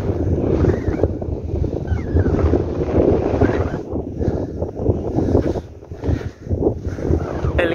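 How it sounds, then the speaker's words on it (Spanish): Strong dusty wind roars through a desert canyon near Ocucaje, Ica, buffeting the microphone in heavy gusts that swell and drop over several seconds. "Lo que corre sí bastante viento, y es que el aire aquí es pura tierra"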